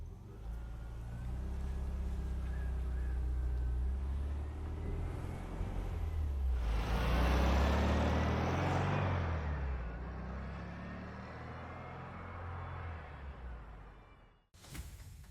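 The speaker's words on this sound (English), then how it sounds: "Let's take it for a drive and get a baseline." VW car with a Bosch 009 distributor driving on the road, a steady low engine drone that swells into a louder, rougher surge midway, then settles and ends with a sharp click.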